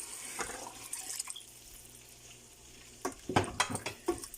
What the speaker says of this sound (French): On va mettre de l'eau. Je mets comme 500 ml d'eau.